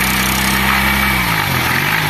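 A motorcycle engine with an abnormal noise runs at steady idle, and a tractor-like hum drops slightly in pitch partway through. Loud and close, with no talking.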